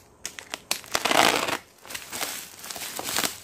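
A large cardboard shipping box is torn open from the side, giving loud crunching and crinkling of cardboard and wrapping with sharp cracks and rustles in uneven bursts, close up and without talking.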